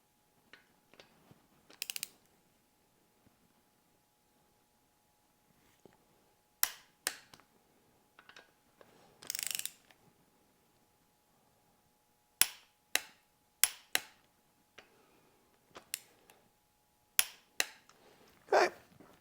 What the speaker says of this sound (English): now I'll switch over to the torque wrench and we'll make sure we get it at the right setting